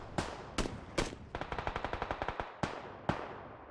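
Rapid gunfire from a PUBG video game firefight: a few separate loud shots, then a fast automatic burst of about a dozen rounds, then two more single shots, with no talking.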